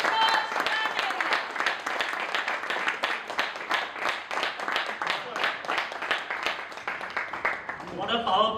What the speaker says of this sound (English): So with a huge round of applause